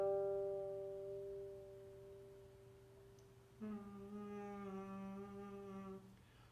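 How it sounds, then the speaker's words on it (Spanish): A guitar note is held steady, then bent up and down with fingertip vibrato, giving a clear, quiet wavering pitch heard alone. "El vibrato significa hacer que una nota oscile arriba y hacia abajo en cuestión de las vibraciones en el aire"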